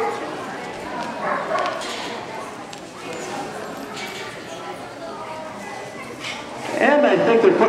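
Dogs at a police dog show bark in short, scattered bursts amid a busy outdoor crowd, with people talking close by throughout.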